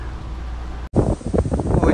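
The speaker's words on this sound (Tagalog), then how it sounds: "ang lakas ng hangin" Strong wind at a pigeon race in Owhango, New Zealand buffets the microphone in a rough, gusting roar, cut by a brief dropout before the blustery rumble returns even harder.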